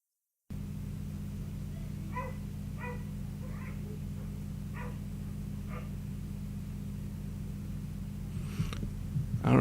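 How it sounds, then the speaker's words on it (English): A dog barks several times in the distance, faint, short and evenly spaced, over a steady low indoor hum, with a louder clatter close by near the end. "I don't know if you could hear the barking"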